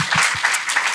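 Applause breaks out at a brain injury panel discussion, a crowd clapping steadily and fairly loudly through the whole second, with no voices over it.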